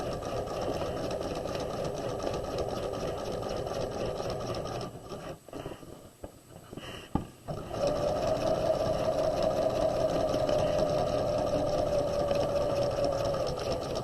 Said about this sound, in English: you'll just sew down a straight line in the middle of the pocket